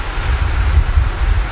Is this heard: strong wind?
yes